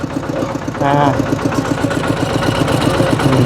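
A tractor engine idles close by, putting out a steady low chugging rumble with a rhythmic pulse. Voices talk faintly underneath it.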